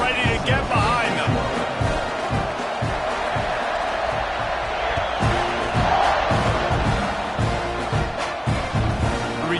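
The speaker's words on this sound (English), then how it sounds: "this crowd now ready to get behind them" Stadium crowd noise in a simulated football video game as the kickoff is about to happen, a steady loud roar with cheering swells running continuously under an announcer's commentary.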